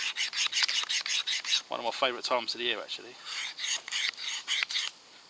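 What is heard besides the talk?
knife edge being sharpened on a sharpener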